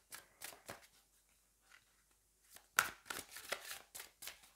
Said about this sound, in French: Allez, on va prendre une carte des anges.